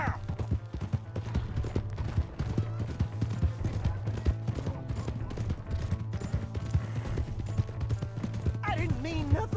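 Horse hooves clop in a rapid, steady galloping rhythm in Red Dead Redemption 2, with a low hum underneath and a voice speaking briefly near the end.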